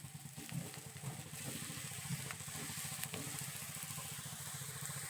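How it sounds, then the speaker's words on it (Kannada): A soft, steady sizzle and faint crackle come from oil spread on a rice roti (akki rotti) frying in a pan. The sound is quiet and continuous for several seconds and cuts off abruptly at the end. "ಈಗ ಎಣ್ಣೆ ಹಾಕ್ತೀನಿ ರೀ ಅದನ್ನು"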